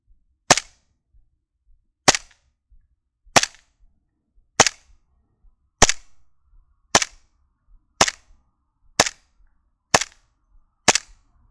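A Hi-Capa airsoft pistol fires 0.2 g BBs from a CO2 magazine: ten sharp, close cracks spaced about a second apart, with near silence between shots.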